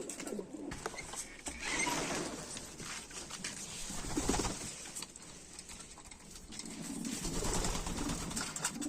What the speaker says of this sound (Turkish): Bunlar da bizim posta kuşlarımız arkadaşlar.